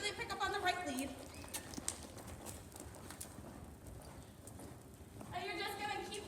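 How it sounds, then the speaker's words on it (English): A horse canters around a barrel on a training ground, its hooves beating out a rhythmic clip-clop at close to moderate distance while a person talks over it at the start and end. "you're gonna pick them up in a canter."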